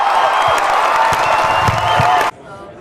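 Comic Con audience cheering and applauding for William Shatner, a loud dense roar with whoops and claps that stops abruptly after about two seconds.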